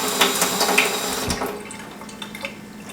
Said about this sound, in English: you can kind of let the water go in, the cold water